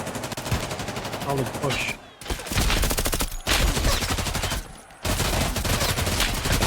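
Rapid gunfire crackles in a Hunt: Showdown match during a competitive league game, dense bursts of shots broken by brief gaps, with a commentator's voice speaking over the action.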